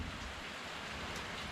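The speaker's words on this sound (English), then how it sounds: "it's mad that it's raining" Steady rain falls outdoors, a soft, even wash of drops that runs unbroken and moderately loud through the whole moment, with no voices.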